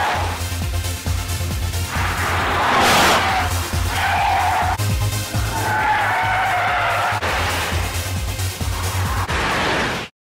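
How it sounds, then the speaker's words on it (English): A supercharged V8 car slides hard, its tyres screeching and squealing in repeated bursts over a throbbing engine note, loud and close for about ten seconds before cutting off. "Supercharged V8. Big slide."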